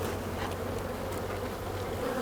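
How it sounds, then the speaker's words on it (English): Honeybees buzz steadily around an opened beehive during hive splitting, a dense, continuous close swarm drone without pause. "I think I have another bee in my shoe"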